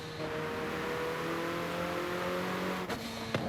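A car engine in Forza Horizon 5 drones steadily at high revs with tonal whine, shifting pitch near the end, loud and continuous with no talking.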